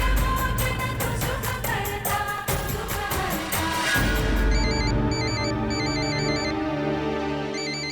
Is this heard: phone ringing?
yes